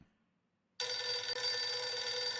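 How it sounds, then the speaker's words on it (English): A telephone in a video game starts ringing abruptly after near silence, a loud, continuous electronic trill close up and unbroken for about two seconds. "Phone's ringing."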